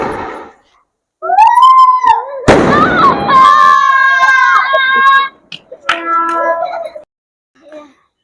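A two-colour shot firework from Sivakasi bursts with a sharp, crackling bang amid excited voices and a child calling out, followed by more chatter.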